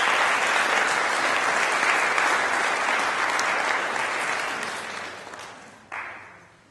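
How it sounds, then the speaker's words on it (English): An audience at a university alumni saxophone concert claps loudly and steadily, the applause slowly thinning out and fading, with one last burst of claps near the end. "Everyone give Dan a round of applause."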